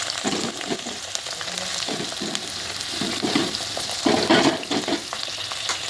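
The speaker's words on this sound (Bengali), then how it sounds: "বেগুনগুলোকে হালকা করে ভেজে নিয়ে আমি তুলে নেবো" Eggplant pieces fry lightly in hot oil, giving a steady close-up sizzle and crackle with occasional stirring bumps and scrapes, no voices.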